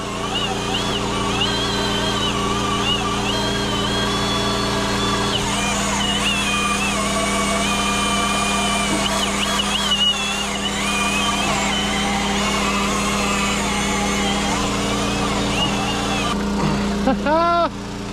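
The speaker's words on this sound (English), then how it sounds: "Oh, this thing is awesome. Little Warren drill winch." A small motorized Warren drill winch drones loudly and steadily beside a creek while pulling rocks during reclamation dredging, its engine pitch wavering slightly, with a person talking over it.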